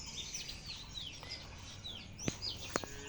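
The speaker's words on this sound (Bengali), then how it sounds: "আরো পাখি কিচিরমিচির করতেছে" Several small birds chirp and tweet faintly in the distance in a mango orchard, with a couple of sharper calls near the end over a quiet background.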